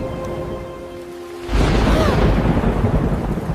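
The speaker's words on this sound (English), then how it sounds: "The rain is getting stronger." Heavy rain turns into a sudden loud crash of thunder partway through, followed by a dense, roaring downpour that stays strong to the end.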